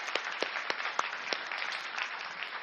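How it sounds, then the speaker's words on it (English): An audience applauds a speaker at a dental conference session, a steady wash of many hands clapping for the whole stretch with a few sharper, closer claps standing out. "a next round of applause to Dr."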